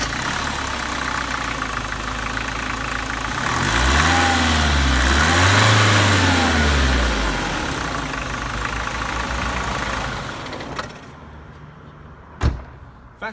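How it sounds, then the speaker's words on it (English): BMW E36 318tds diesel with its stock air filter: a steady, rattly idle swells into a couple of moderate revs midway, settles back, then the engine cuts off, followed by a sharp click or two. "The rustic diesel sound."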